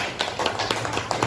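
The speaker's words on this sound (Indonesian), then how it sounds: "tepuk tangan buat teman kita Wahyu" A short burst of classroom applause breaks out for a student, several pairs of hands clapping in a quick, uneven patter that lasts about a second.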